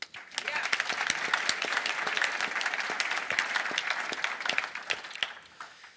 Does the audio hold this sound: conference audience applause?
yes